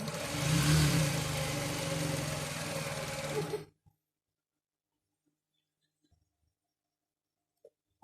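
A sewing machine stitches around the edge of a fabric bag, a continuous close whirring run for several seconds that stops abruptly, followed by near silence with a few faint taps.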